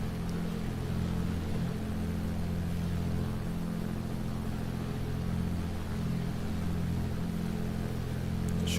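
A light aircraft engine in the Prepar3D flight simulator holds steady at about 2400 rpm, a continuous low droning hum that stays even and unbroken throughout, with no talking.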